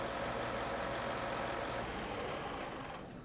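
A Bell articulated truck with MK6 upgrades idles through its automatic cool-down before engine shutdown, a close, steady low rumble that fades slightly at the end.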